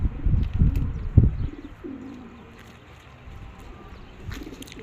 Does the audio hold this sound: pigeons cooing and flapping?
yes